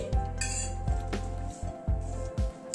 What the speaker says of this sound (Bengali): গ্যাসে একটা তাওয়া বসালাম, একটা মশলা তৈরি করে নেব।